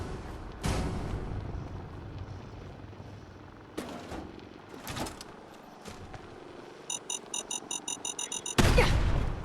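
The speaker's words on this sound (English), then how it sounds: "You hear more beeping." Rapid electronic beeping in Fallout 4 plays as a quick, evenly spaced train of about ten short tones near the end, following scattered bangs and game noises and cut off by a loud burst.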